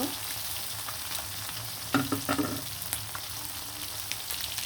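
Hilsa fish and roe sizzle steadily in hot oil, a soft continuous crackle broken by a brief cluster of utensil clinks and stirring scrapes partway through.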